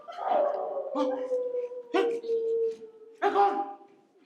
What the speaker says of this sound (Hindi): कुत्ते की रुलाई हमेशा आपको नापसंद है?